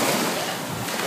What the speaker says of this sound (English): the waves are really big already at the front of the sea